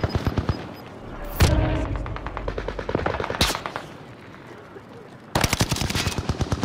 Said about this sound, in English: A lot of shots going on inside.